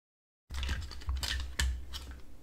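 Plastic casing of a Trust Rexx vertical mouse being pried apart, a close run of scraping, creaking and clicking plastic with a sharp snap partway through, starting abruptly after a moment of silence.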